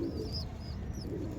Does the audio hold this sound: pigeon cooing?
yes